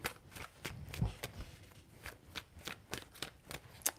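Tarot deck shuffled by hand in quiet, close, evenly paced soft flicks and taps, faint and without any talking.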